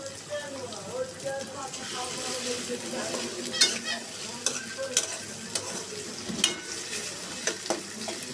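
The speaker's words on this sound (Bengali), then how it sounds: "পেঁয়াজটা আমি একটু নরম করে ভেজে নিচ্ছি" Sliced onion with ginger-garlic paste sizzling in a pan as a spatula stirs it, giving scraping strokes and clinks over a constant close fry.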